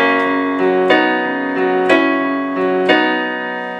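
A piano plays a measure of repeated chords, struck in an even rhythm with notes ringing between, clear and close.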